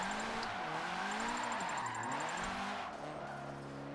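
A video game car spinning out under too much throttle, engine whining and rising and falling with continuous tire squeal, loud and close throughout.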